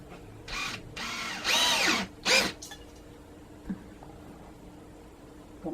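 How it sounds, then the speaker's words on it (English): Power drill boring a tap hole into a barrel holding wood-ash lye mud: a few whirring bursts over about two seconds rising in pitch under load, then a brief stop and faint handling noises. "we're gonna drill a tap hole."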